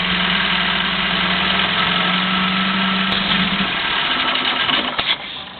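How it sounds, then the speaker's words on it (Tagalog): A generator engine on a homemade water-car setup runs at a steady idle hum close by, then cuts out near the end with a couple of sputtering knocks before falling quiet. "See? The engine stopped."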